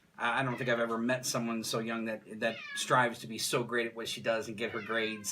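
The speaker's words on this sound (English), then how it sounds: "Please excuse the meowing cat." A house cat meowing repeatedly while people talk nearby, its cries mixed closely into the conversation.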